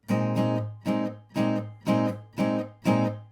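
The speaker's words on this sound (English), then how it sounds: "Put your fingers on and off the chords so that after you strum, you can quickly mute everything." Six short strummed guitar chords in an even rhythm, each cut off sharply by muting, with brief silences between them.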